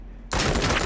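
Loud, dense burst of gunfire from the video game RoboCop: Rogue City, starting abruptly after a quiet moment and continuing as sustained, close shooting.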